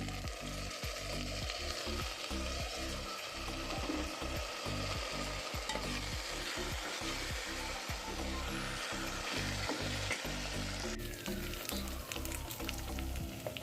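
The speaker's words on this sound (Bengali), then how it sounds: "ডাল ভাজা হয়ে গেছে সবজিগুলো এর মধ্যে দিয়ে দিই" Close, steady sizzling of fried lentils and vegetables in a pan, with repeated scraping strokes of a spatula stirring in an uneven rhythm throughout.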